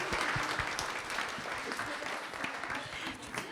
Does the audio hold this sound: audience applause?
yes